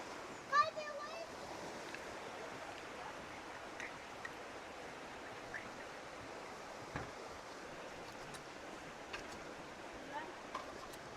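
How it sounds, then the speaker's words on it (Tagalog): Rain falls alongside running water in a steady, faint, broad hiss that continues without a break, with a few small splashy ticks and a brief distant voice near the start. "Ulan."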